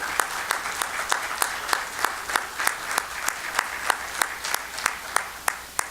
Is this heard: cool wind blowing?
no